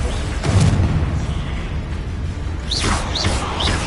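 A Bombarda spell explosion goes off with a deep boom and rumbling blast, followed by whooshing, swooping magical effects in the second half.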